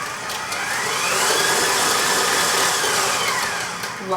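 Electric stand mixer running on low, blending oatmeal raisin cookie dough as the dry ingredients go into the butter and sugar, a steady loud motor whir with a rising and falling tone, close up and alone.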